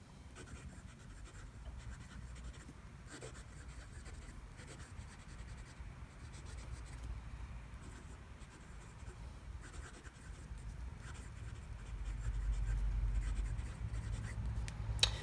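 A fountain pen nib with Diamine Blood Orange ink scratches softly across paper in close, quiet strokes, a faint continuous rubbing with slight rhythmic variation that grows a little louder toward the end.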